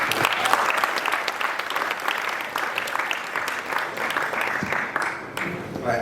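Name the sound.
audience applause at Africa Day event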